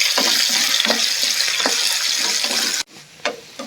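Ginger and garlic sauté in a pan for a shrimp pickle, giving a loud, close, steady sizzle with stirring scrapes that cuts out near the end before a fainter sizzle resumes.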